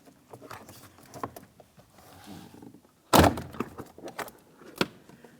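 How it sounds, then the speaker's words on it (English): A door panel on a 2002-2005 Ford Explorer is pried loose, with a sharp loud crack and thunk midway, followed by smaller snapping clicks of plastic clips releasing. "Let's go ahead and remove that door panel from the door."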